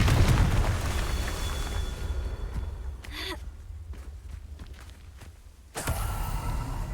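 Confringo blasting spell in the Hogwarts Legacy video game, a broad burst of rumbling noise that erupts and tails off, then a second sharp blast near the end, heard alone with no talk.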